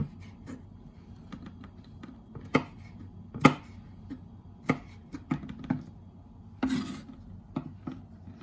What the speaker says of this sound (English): You're chopping it up, little chops.